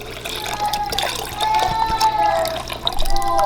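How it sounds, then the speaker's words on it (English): Water pours steadily into a cooking pot for a ramen seafood boil, a close, bubbling trickle with rising gurgling tones as the pot fills, running for a few seconds. "so I'll probably put about a cup of water in this as well"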